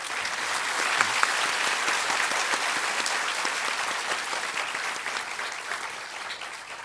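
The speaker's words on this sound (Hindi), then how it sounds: "जोर से ताली बजा।" An audience at a Hindi religious discourse claps loudly and continuously in dense, sustained applause that fades slightly toward the end.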